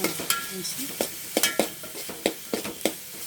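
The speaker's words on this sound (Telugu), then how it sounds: "ఒక 2 నిమిషాలు నూనెలో మగ్గాలి" Food frying in oil in a pan: a soft background sizzle punctuated by a regular series of sharp clicks and scrapes from stirring, close and distinct, with a faint voice-like sound early on.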